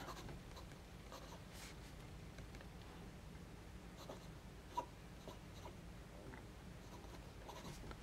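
A Pelikan M400 tortoiseshell fountain pen with a broad nib scratches steadily across paper, a close, continuous soft scritching with faint strokes and a low background hum, no voices.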